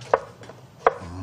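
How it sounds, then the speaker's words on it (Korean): A knife chops zucchini into half-moon slices about 5 mm thick on a cutting board. Two crisp, close chops land about three-quarters of a second apart in an otherwise quiet kitchen. "이렇게 해서 반달 썰기로 해서 준비할게요"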